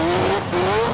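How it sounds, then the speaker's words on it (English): The rear tires of a car lock under the hand brake and skid across the pavement, giving two short, close squeals, one after the other. "since the rear axle of the car slides when blocking the rear tires"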